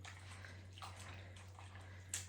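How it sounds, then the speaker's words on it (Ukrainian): Water is drained off freshly rinsed potatoes and cold water poured in again in a kitchen, faint splashing and trickling over a low hum, with no talking. "І йдемо зливати і знов другу воду наливати."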